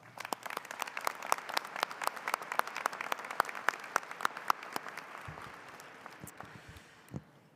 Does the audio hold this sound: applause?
yes